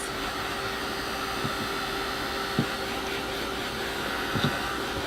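A hair dryer blows steadily at close range in a quiet room, a constant airy whoosh with a faint motor hum and a few small bumps of handling, with no talk.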